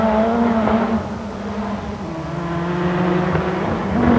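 A loud rally car engine roars steadily with shifting pitch, dipping briefly then rising again as it drives past nearby on a forest rally stage.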